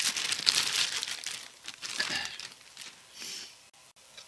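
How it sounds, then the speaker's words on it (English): Plastic wrapping is crinkled and pulled off the body of a Revell 1/25 Camaro model kit, close, with crisp rustling bursts that ease off and then pick up again briefly. "Let's take it out of the plastic. I want to get rid of this plastic."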